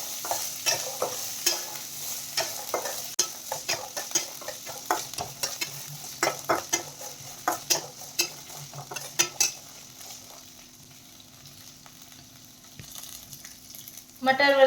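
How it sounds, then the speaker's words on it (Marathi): Green peas sautéed in a pan for matar kachori filling, with repeated scraping stir strokes and a light sizzle, the clatter thinning to a quiet simmer before a brief clank at the end. "त्यामध्ये टाकायचं आहे 1 वाटी मटार आणि मटार हे त्यामध्ये छान असा"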